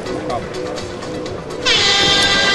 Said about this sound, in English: We're going racing, drivers, on the sound of the tone.